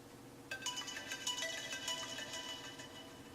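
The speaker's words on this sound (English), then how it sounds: "We're gonna play a ringtone here." An iPhone 7 ringtone plays at maximum volume from inside a frozen bottle of Coke, a bright repeating chime pattern beginning after a short pause that sounds somewhat muffled and steady for a few seconds.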